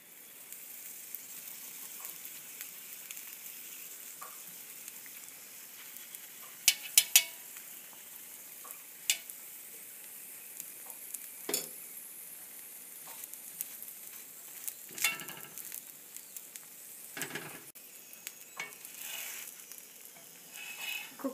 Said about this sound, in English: Flip the paratha and add about 1 teaspoon of oil on all sides.